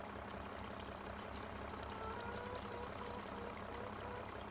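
Water pours from a spigot in the Farming Simulator 25 farm game, a steady wash of splashing and trickling that runs unbroken for the whole stretch at moderate level, with a low engine-like rumble underneath.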